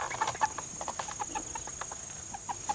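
Cornish Cross meat chicken, about seven and a half weeks old, clucking while being picked up: a rapid run of short, close clucks over a constant background hum.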